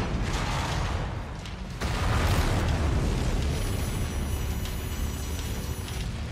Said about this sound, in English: My long-range missiles.